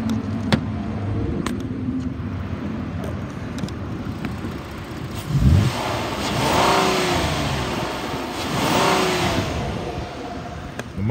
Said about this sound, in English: I'm gonna rev this one up for you so you can hear it.